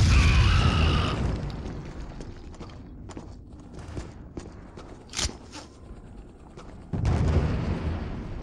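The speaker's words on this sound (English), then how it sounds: "Here's a bomb incoming!" An incoming bomb blasts in the shooter game Killzone: a loud low boom opens, then a quieter stretch of scattered thuds and crackles, and a second heavy rumbling blast follows near the end.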